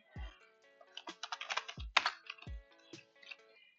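Keystrokes on a computer keyboard while setting up a Minecraft server, quick uneven bursts of clicks with a few heavier thumps from larger keys, close and clear with no talking.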